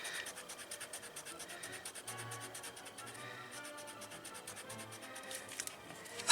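A sanded eraser rubs lightly along the grain of carbon-transferred wood in quick, even back-and-forth strokes, a faint, soft scratchy patter heard close and alone.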